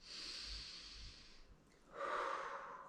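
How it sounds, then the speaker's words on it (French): Deep, slow breathing during a guided relaxation exercise: a long, airy breath with a short pause, then another fuller breath, close and soft, with no talking over it. "Et là, vous respirez profondément."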